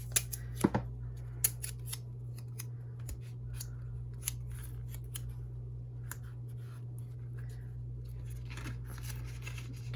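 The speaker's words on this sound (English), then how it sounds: "And I'm going to tape it in place with some masking tape." Masking tape pulled from the roll and torn to hold a paper-punching jig against a book cover, heard as faint close rips and crackles, a few sharp tears early on and then quieter handling, with no talk.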